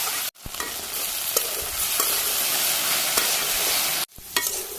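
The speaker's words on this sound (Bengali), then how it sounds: "নাড়াচাড়া করে ভাজি করে নিই" Okra (ladies' finger) stir-fries in a pan with chili powder and green chilies, a steady close sizzle broken by two brief pauses and scattered scraping stirs.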